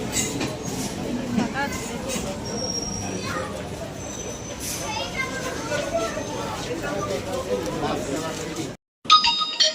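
A train at Sealdah station in Kolkata rumbles and rattles steadily while passengers step off, with voices and children's chatter over it, ending in a brief gap and a sharp clatter.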